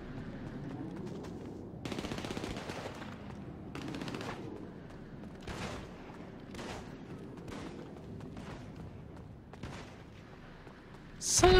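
Gunfire in the video game GTA Online, with scattered bursts of automatic weapons and single shots crackling at a distance across an ambient game backdrop, ending in a louder close blast.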